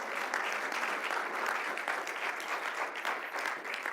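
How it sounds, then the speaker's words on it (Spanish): A church congregation breaks into dense, sustained applause for Christ during a sermon, the clapping loud and unbroken throughout. "para que usted le dé un aplauso a Cristo como Él se lo merece"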